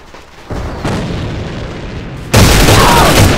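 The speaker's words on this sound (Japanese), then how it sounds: "手榴弾、 手榴弾投擲。" A hand grenade goes off in the shooter game AVA, a heavy boom that swells into a loud, sustained roar and jumps louder midway, dense blast noise with no voices.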